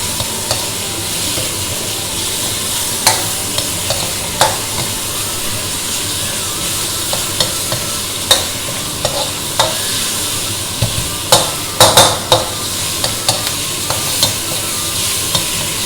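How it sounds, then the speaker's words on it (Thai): Pork belly sizzles and hisses steadily in a hot pan as it stir-fries with curry paste, while a utensil scrapes and stirs it in scattered clanks. "ลงไปผัดกับพริกแกงเลยนะครับ"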